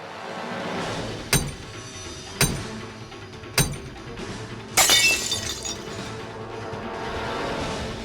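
Safety glass in a window in a Hardy Boys video game is struck and breaks: four sharp shattering impacts about a second apart, the last one louder with a lingering tinkle of glass, over a steady ambient game background.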